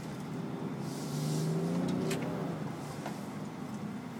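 A 2013 BMW X5 30d inline-six diesel accelerates with a steady engine drone that rises in pitch through the gears, loud and continuous with no talk.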